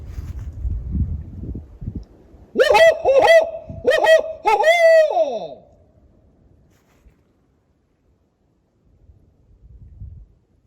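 A person imitates a bird call with three or four rising, hooting whoops in a row, loud and close, followed by quiet with faint rustling, in West Virginia woods during a Bigfoot search.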